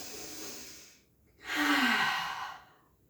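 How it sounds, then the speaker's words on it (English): A single big sniff inhaling the scent of flowers during a children's creative movement plant dance, a loud drawn-in breath of about a second following a softer breathy stretch, with no talking. "Take a big sniff."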